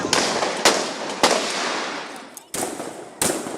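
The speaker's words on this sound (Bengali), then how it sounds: "চাইনিজ রাইফেলে মুহুর্মুহু গুলি ছুটছে পুলিশ" Police fire Chinese rifles during a street protest in Dhaka: five loud, sharp gunshots at irregular intervals, each echoing off surrounding buildings with a long rumbling tail.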